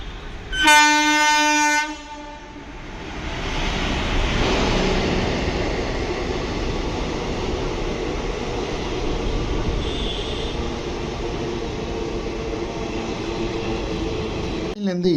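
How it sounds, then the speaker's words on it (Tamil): An Amrit Bharat Express on the Jogbani to Erode run pulls into Perambur station, opening with a loud blast of the train horn, then the steady rolling rumble and clatter of coaches passing close by along the platform. "ஸோ ட்ரெயின் வரட்டும்"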